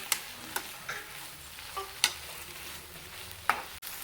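A spoon scraping and stirring cabbage stir-fry with grated coconut in a pan, a handful of sharp irregular clinks and scrapes over a faint, low sizzle, close and quiet.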